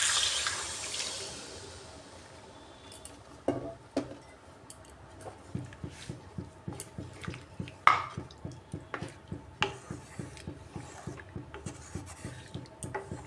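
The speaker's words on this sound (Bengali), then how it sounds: "এবার দিয়ে দিচ্ছি গরম জল" Hot water is poured into a vegetarian potato curry (alur dum) of partly boiled potatoes and spices: a rushing hiss at the start fades, followed by steady, regular bubbling clicks and pops. Nobody speaks.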